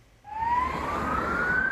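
Ambulance siren in Zaporizhia, Ukraine, as the vehicles race toward the scene of a deadly attack: one loud, steady wail that rises slowly in pitch over a low traffic rumble, with no voices.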